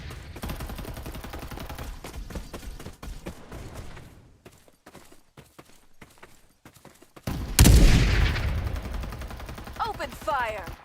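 Rapid gunfire in the shooter video game Farlight 84, bursts of automatic shots crackling over several seconds, a brief lull of scattered shots, then a loud heavy blast followed by renewed firing, with a voice speaking briefly.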